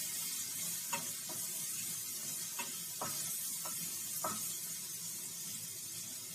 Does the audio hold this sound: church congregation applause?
no